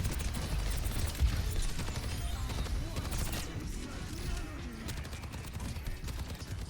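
Bastion's turret-mode gunfire in Overwatch, a dense sustained roar of rapid automatic shots layered with other combat noise, steady and loud throughout.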